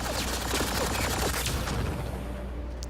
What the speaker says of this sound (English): The hell are you shooting at, people?